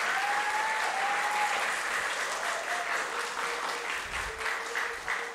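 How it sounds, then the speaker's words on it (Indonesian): Audience applause at a school anniversary celebration for an Islamic junior high (MTs Negeri 4 Karanganyar), steady dense clapping from a sizable crowd filling the whole stretch, sustained and even without letup. "Tepuk tangan untuk MTS Negeri 4 Karanganyar."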